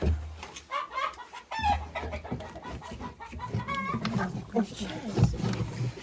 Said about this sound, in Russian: Квочка и несушка.